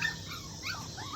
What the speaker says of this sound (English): we're going to do a little video of Cookies puppies